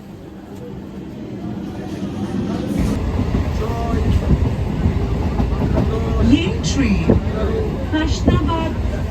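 A train pulls into a station platform, with steady rumbling and clickety-clack building louder over several seconds, under ongoing chatter and background voices.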